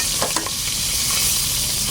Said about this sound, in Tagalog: naluluto na tong ibang prito mga par